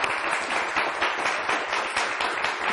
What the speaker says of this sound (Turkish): Alkışlar lütfen.